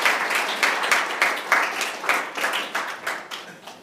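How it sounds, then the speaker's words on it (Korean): Applause from a seated audience at a web development conference session, a steady patter of many hands clapping that gradually thins and softens toward the end. "박수 좀 부탁드리겠습니다."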